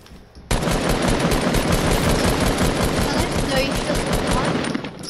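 Rapid automatic gunfire in the video game Fortnite, aimed at a ramp, bursts in after a brief pause and keeps rattling loudly and densely until the end, with voices talking underneath.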